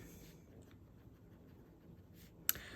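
An Asine P20 fountain pen with a fine nib writes on paper, a faint, soft scratching of strokes in a quiet room, with one sharp little tick near the end.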